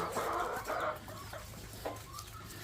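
Layer hens cluck in short, soft bursts at a moderate distance, a few calls scattered over a quiet, steady background.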